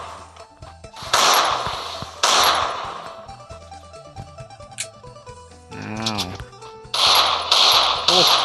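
Video game gunfire crackles in several loud bursts of rapid shots separated by quieter stretches, with a few single reports in between and a player's voice briefly audible.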